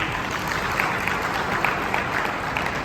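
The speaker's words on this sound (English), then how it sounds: "Let's clap for the Speaker." A parliamentary audience gives even, sustained clapping for the Speaker, a continuous wash of many hands at moderate volume with no one talking over it.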